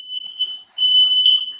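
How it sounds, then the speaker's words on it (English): A household smoke alarm sounds with a loud, piercing electronic tone that holds steady, drops out briefly, then resumes even louder, with no talking over it. "You set off my smoke alarm."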